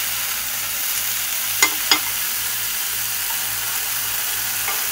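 Cabbage frying in a little oil in a pan makes a steady, even sizzle throughout, with two sharp clinks of utensil against pan close together near the middle.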